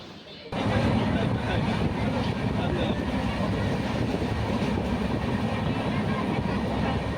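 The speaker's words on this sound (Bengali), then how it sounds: "এই যে 3 নম্বর প্ল্যাটফর্মে আমাদের ট্রেন এসেছে" The Dhauli Express pulls into platform 3 at Jajpur Keonjhar Road station in Odisha, a loud sustained rumble and clatter of railway carriages that begins abruptly, with voices of people on the platform mixed in.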